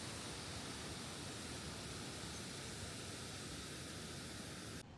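A waterfall beside a campsite in the Vietnamese jungle gives a steady, dense rushing roar that fills the whole stretch evenly and cuts off abruptly at the end, with no voices.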